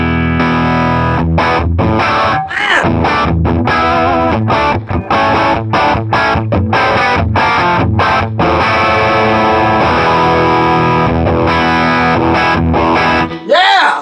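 An electric guitar plays through a J Rockett Archer overdrive pedal, loud and continuous, with a thick driven tone over strummed chords and rhythmic stops, close up, and a short vocal exclamation near the end.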